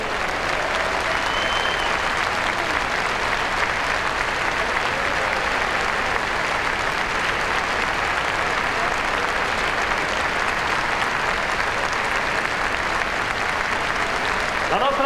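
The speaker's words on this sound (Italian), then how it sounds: "Siamo qui in campo con un grande applauso, Vasilis Spanoulis!" A packed basketball arena in Milan bursts into loud, continuous applause and crowd roar honoring EuroLeague legend Vassilis Spanoulis, a thick, unbroken wall of sound that holds at full strength throughout.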